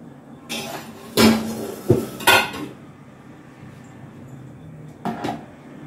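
A spoon mixes prawn marinade with curd in a bowl, producing a few loud, close clinks and scrapes of utensil against dish in short bursts, then a brief final clatter, with no talking.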